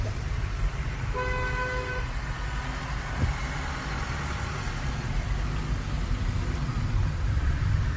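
A short car or truck horn honks once amid the steady low rumble of congested road traffic on the way to Alibag, with engines idling and a constant broadband roadside noise throughout.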